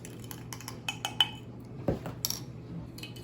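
A metal utensil clinks and scrapes against a bowl while cinnamon is mixed into donut ingredients, with a few bright taps and one dull knock, quiet and close, and no talking.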